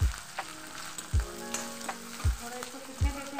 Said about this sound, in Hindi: फिर हम डालेंगे अपनी थोड़ी सी कटी हुई प्याज और हरी मिर्च